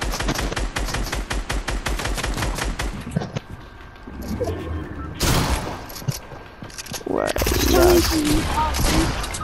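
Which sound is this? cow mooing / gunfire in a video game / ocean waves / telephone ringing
gunfire in a video game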